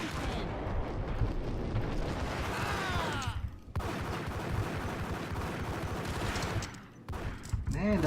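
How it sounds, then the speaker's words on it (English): An enemy woman shoots at the player in the action game Max Payne, a rapid, loud clatter of gunfire and impacts that pauses briefly twice, with a faint voice beneath. "so she is shooting at me"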